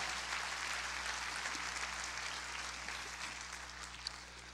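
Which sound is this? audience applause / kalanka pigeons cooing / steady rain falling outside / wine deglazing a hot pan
audience applause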